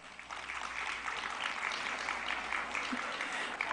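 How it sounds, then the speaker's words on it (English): Audience applause at a Philippine education report ceremony builds into a steady, moderately loud wash of clapping from a large seated crowd, continuing for several seconds without any voice over it. "we will all gather here together and clap for them"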